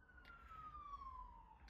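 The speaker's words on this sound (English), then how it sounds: "Apologies there for that siren for you guys." A siren passing along a nearby highway, heard as a faint, steady wailing tone that drifts slowly downward in pitch as it moves past, over low traffic rumble with no talking.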